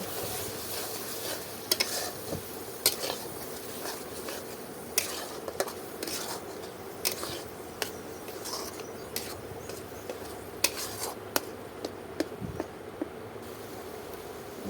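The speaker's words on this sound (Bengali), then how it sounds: "এখন কড়াইয়ে তেল নিয়ে নিব তেলের মধ্যে এই ভর্তাটি দিয়ে দেবো দিয়ে ভালো করে নিড়ে" Shrimp mixed bharta fries in oil in a wok while being stirred: a steady low sizzle runs throughout, broken by frequent sharp scrapes and clicks of a spatula against the pan, with no voices.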